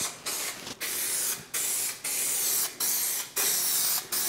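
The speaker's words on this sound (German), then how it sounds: "ganz normal wieder unseren Primer und sprühen jetzt die Ecke voll" Primer sprayed from a can into a bathroom corner: a loud, close, steady hiss broken into about eight bursts with short pauses between them, with no voices.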